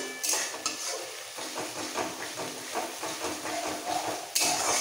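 A ginger and white mustard paste with a pinch of salt is stir-fried in a pan for sukto. A utensil scrapes and clinks against the metal in a quick rhythm over a soft, close sizzle.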